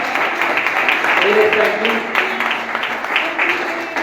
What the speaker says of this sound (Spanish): Dale un fuerte aplauso a que vive.